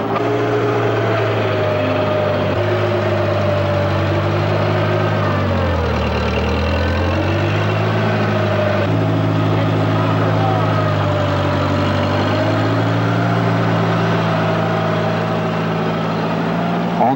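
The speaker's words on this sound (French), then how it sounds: "avec un remarquable savoir-faire, Jeff manie son chariot élévateur comme une arme de précision" A forklift engine runs steadily and loudly close by while moving beehives, its low drone rising and dipping slightly in pitch as it works.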